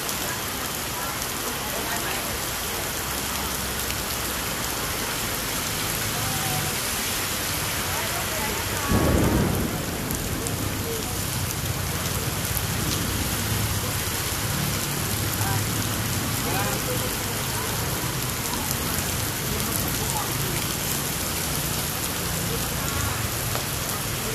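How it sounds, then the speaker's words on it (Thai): Heavy rain pours steadily on a surface through a Thai street-side evening, with a sudden loud thunder crack partway through and rumbling that lingers under the downpour. "ฝนตกนะครับ วันนี้ฝนต"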